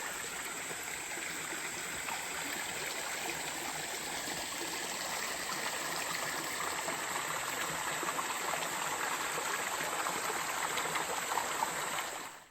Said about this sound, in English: we have 2 very small streams that run through our subtropical rainforest